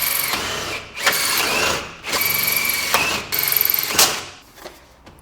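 A power drill bores holes through metal sheet for BMW Z3 chassis gussets in a workshop. Four close, loud whirring bursts run about a second each and are separated by brief pauses.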